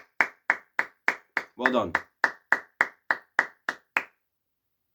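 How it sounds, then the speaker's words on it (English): Several sharp hand claps in a steady rhythm, about a dozen, briefly interrupted by a short spoken phrase midway, then stopping. "Let's give a round of applause to the players."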